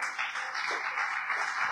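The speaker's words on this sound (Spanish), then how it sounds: "¿Le puede dar un aplauso al Señor?" Church congregation applauding, a soft, steady patter of many hands clapping at a distance throughout, with no talk over it.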